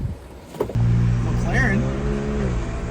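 A Porsche Cayman built in GT4 style pulls away and accelerates on the road, its engine note rising in a loud, steady drone close by after a brief quieter moment, with a short burst of speech over it.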